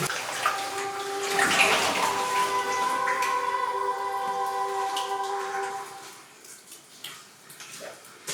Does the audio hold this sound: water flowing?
yes